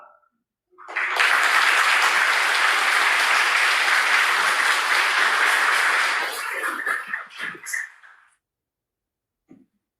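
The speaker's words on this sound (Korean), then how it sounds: "우레와 같은 박수로 환영해 주셔서 감사합니다" A church congregation applauds to welcome a guest pastor, a dense, loud roar of clapping that starts abruptly, holds for about five seconds, then breaks into scattered claps and fades to silence.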